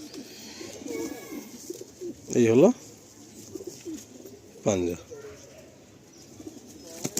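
A restless Madrasi pigeon being handled gives two short, loud coo bursts with faint wing rustle, heard close up under a man's ongoing speech.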